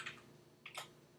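A computer keyboard being typed on to enter a command, a few quick, light key clicks in a short burst, close and faint, with no voices.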